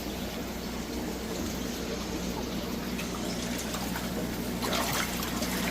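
Water holding rays is poured from a tub into a fish tank, making a continuous rushing splash and trickle that swells toward the end.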